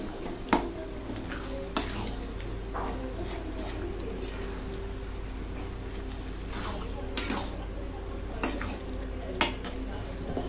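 A spoon scrapes and knocks around a pan of pav bhaji, with sharp metallic clinks every second or so over a low, continuous background hum and faint sizzle, close and moderately quiet.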